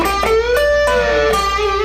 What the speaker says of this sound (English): Now if I go to my neck pickup on the overdriven sound, everything on 10 sounds like this.